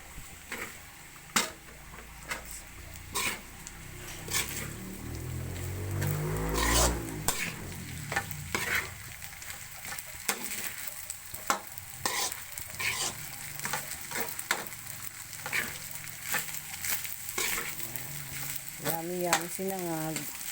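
Sinangag, Filipino garlic fried rice, stir-fried in a pan for a home breakfast, with a steady close sizzle and repeated scraping and clattering strokes of a spatula against the pan throughout.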